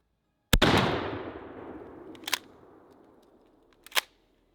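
A shotgun fires a turkey load, Winchester Longbeard XR or Federal TSS, as one sharp, loud blast that rolls away in a long echoing decay outdoors, followed by two fainter distant reports.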